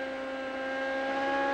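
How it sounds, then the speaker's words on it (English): A 2003 IndyCar race car engine at Richmond, its throttle held in a sustained high whining drone with steady harmonic tones that build slightly in loudness over a brief stretch, alone without commentary. "And hear the throttle. Listen to the throttle, Larry."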